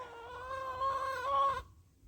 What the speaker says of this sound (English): our hens are quite talkers, especially those black Australips